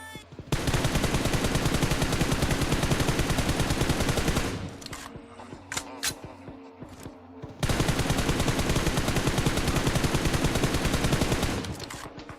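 A gun fitted with an angled grip fires in long, dense automatic bursts in a mobile shooter game, loud and close, broken by a short pause with a few scattered single shots before the next sustained burst.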